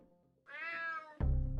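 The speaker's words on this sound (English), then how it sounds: "Damn cat." A cat in the video game Unmetal gives a single clear, drawn-out meow at close range, followed by a sudden loud burst of other game sound.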